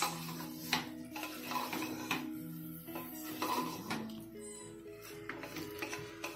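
Mutton curry being stirred in a pot at home, with soft scraping and light clinking of a spoon against the pot, repeated at irregular intervals and close by.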